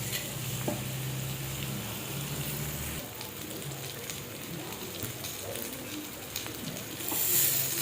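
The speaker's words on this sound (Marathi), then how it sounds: "फक्त आपण तव्यावरती फ्राय करणार आहे" Tilapia fillets shallow frying in oil on a flat tawa give a steady crackling sizzle that runs the whole time, with a few stirring or handling clinks and a slight lift near the end.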